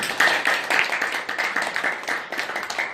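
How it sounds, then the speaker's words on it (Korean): Audience applause at a Korean talk show event, a dense steady wash of many hands clapping at close range, continuous for the whole stretch with no voices over it. "한번 박수 한번 부탁드리겠습니다."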